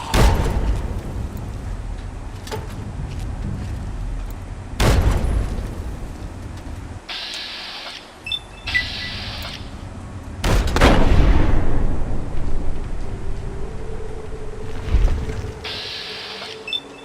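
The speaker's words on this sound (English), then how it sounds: "Throw a grenade around there." Grenade blasts in Fallout 3: several heavy booms burst out one after another amid steady rumbling battle noise and some mechanical whirring, loud and close, without speech.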